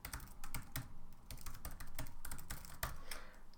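Someone types code on a computer keyboard, a dense, rapid run of close key clicks with uneven rhythm and no voices, fairly quiet.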